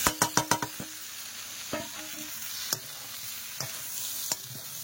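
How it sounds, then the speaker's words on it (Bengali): Spices being stir-fried with raw jackfruit and potato in a pan, opening with a quick run of five sharp spatula scrapes, then sparser scrapes and clinks over a faint continuous sizzle. "এবার একসাথে খুব ভালোভাবে মশলা কষাই করে নেব।"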